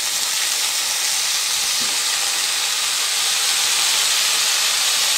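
Two and a half kilos of chicken frying in a pan for a Kerala-style chicken roast, a steady close hiss and sizzle with no break.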